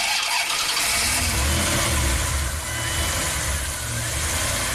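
A Ram camper van engine that stalls after a hot soak is coaxed back with some gas, giving a rough, uneven running and revving sound up close for several seconds, with a voice talking over it.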